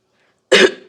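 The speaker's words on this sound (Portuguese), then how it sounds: "de vez em quando eu faço um pouco de pigarro" A single short, close throat clearing from a woman recovering from a virus, one sharp rasping burst under a second long that fades quickly into quiet.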